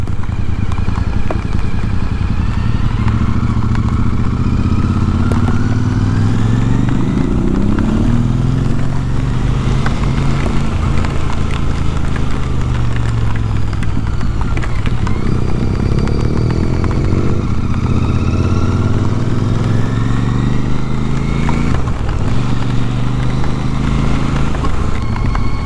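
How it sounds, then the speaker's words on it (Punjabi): A motorcycle ridden in rain on the Passo San Boldo mountain road in Italy, its engine droning loudly with rising and falling revs under constant wind and road rush, no talking. "ਆਪਣੇ ਮੋਟਰਸਾਈਕਲ ਦੀ ਪਹਿਲੀ ਮੀਂਹ ਦੇ ਵਿੱਚ ਰਾਈਡ ਹੋ ਗਈ ਹੈ ਵੀ"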